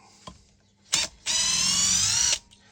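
Cordless drill driver sinking a screw into timber on a building site: a couple of short quick blips, then one sustained whining run of about a second that cuts off as the screw tightens, close and clear with no talk.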